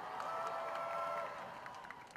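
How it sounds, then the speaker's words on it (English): Audience applause at a Bollywood song launch event, a moderate wash of clapping and crowd noise that holds steady, then thins out toward the end with a few scattered claps. "please give him a huge round of applause."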